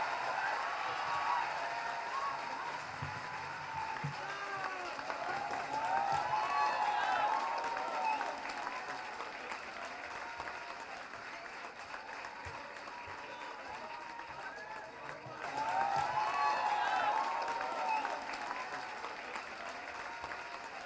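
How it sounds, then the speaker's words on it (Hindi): Audience applause during a standing ovation at a Hindi poetry or music stage show, a dense steady wash of clapping that swells, eases off and surges again, with a voice over the crowd. "यह जो आपकी स्टैंडिंग ओवेशन है ये सबसे बड़ी है।"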